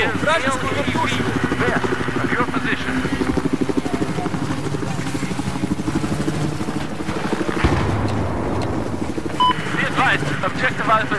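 Enemy helicopter rotor and engine roar in a Battlefield 4 multiplayer Conquest match on the Lancang Dam map, a loud continuous drone mixed with gunfire, explosions and game voice callouts throughout.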